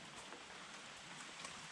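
Steady rain falls as a faint, even hiss of drops with no clear pauses, quiet and constant throughout.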